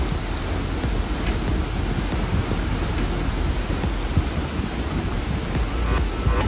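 A waterfall at Seljalandsfoss rushes with a loud, dense, unbroken roar close by, a broad wash of falling water with no speech over it.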